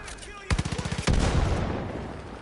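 Rapid bursts of gunfire from a high-recoil gun in a video game, a quick rhythmic string of shots followed by a dense roaring volley that fades slowly, loud and close.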